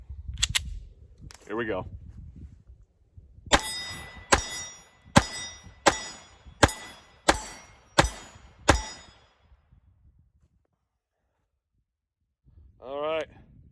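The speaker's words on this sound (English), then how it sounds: "Final shots through the 1934 Mauser" Eight sharp shots from a 1934 Mauser .32 ACP pistol at a shooting range, evenly spaced and loud, after a short spoken line with a few softer knocks before them and quiet afterward.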